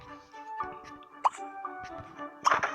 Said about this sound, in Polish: Musimy zrobić ekspreso.